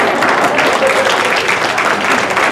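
Audience at a talk on fighting human trafficking breaking into dense, loud applause, a steady wash of many hands clapping throughout.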